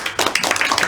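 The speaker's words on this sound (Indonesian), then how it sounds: "Oke, tepuk tangan sekali lagi." A short burst of clapping from a history-education microteaching class, several hands striking in quick, uneven succession, close and fairly loud, with no talk over it.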